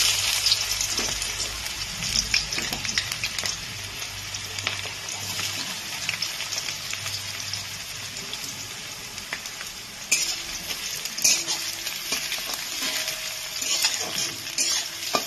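Chopped onions frying in oil and being stirred, a steady sizzle broken by scraping strokes and bursts of louder crackle, close up and without speech.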